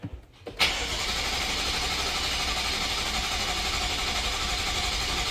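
A BMW F10 M5 engine cranks over while its oil is primed, starting with a short click and burst, then a steady, even mechanical whir from the starter and engine that continues without pause.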